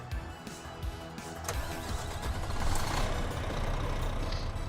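Simulated Renault Premium truck engine starting in Euro Truck Simulator 2, a rising mechanical crank that settles into a steady, fairly loud diesel rumble heard from outside the cab, with no talk.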